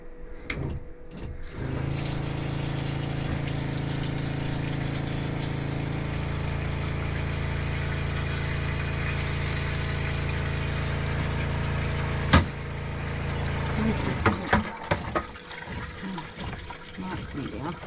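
Water gushes steadily into a boat's tank with a pump's low hum for a long stretch, then a sharp knock and some clunks follow as the flow settles.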